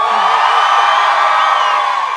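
A live audience at a Silverstone Formula 1 preview show cheers for Lewis Hamilton, a loud, dense crowd roar with whoops that stays sustained from start to finish.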